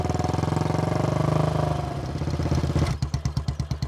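A motorcycle engine idles close by as the bike is parked, a loud steady throb that slows and turns into a choppier, uneven putter near the end.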